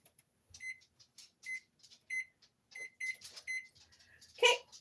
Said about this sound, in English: I'm going to set my timer for 12 minutes